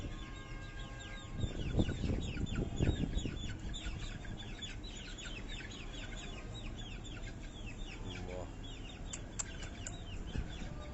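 Several chickens and roosters kept as hobby fancy birds cluck and squawk in a continuous chatter, with a louder burst of calls and some wing flapping early on and scattered clucks throughout.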